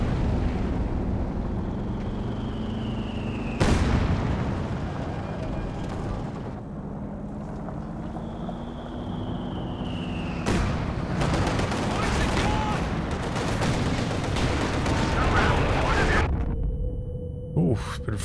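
Gunfire and explosions from a Company of Heroes 2 multiplayer match, with sharp blasts and booming impacts scattered over a continuous rumbling battle bed and a few whistling shells.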